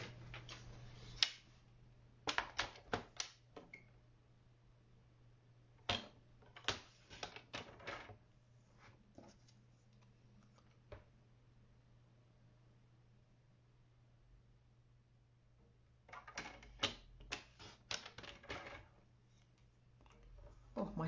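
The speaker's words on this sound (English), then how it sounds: "We're just going to trim off that section at the bottom." Paper card being trimmed with a cutter produces bursts of sharp, quiet clicking and slicing ticks in short clusters, separated by pauses, close and faint against a low steady hum.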